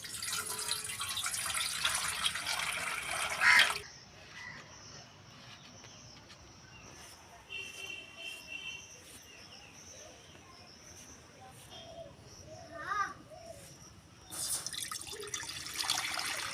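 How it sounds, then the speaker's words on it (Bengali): Water poured into a pot for soaking chow mein noodles in a village kitchen, a loud, rushing splash at the start and again near the end, with quiet dripping and faint chirps in between. "যেগুলো কাটবো, এই জল ঢেলে নিলাম।"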